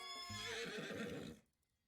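Horse in a Colonel Sanders dating video game giving a loud, close, drawn-out neigh with a rising-then-falling whinny, cutting off abruptly near the end.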